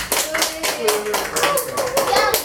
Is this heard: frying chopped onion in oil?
no